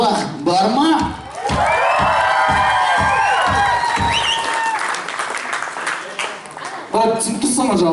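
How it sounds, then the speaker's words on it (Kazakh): Children and adults break into clapping and cheering for a child named Batyr, starting with a burst of rhythmic claps and rising into loud, sustained whoops and shouts, with voices mixed in throughout. "Батырға шапалақ бар ма?"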